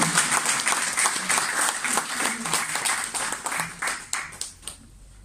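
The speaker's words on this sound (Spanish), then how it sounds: "vamos a dejarla con un fuerte aplauso a Milagritos Huertas Quesada" A crowd at a book launch for a poetry collection claps steadily for several seconds, a dense, sustained applause that thins out and fades near the end.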